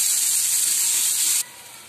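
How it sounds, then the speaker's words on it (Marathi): A large chopped onion fries with a bay leaf in a pan for a dhaba-style egg masala, giving a loud, close, bright sizzle that drops abruptly to a quieter hiss partway through. "हा माझा कांदा फ्राय होतोय"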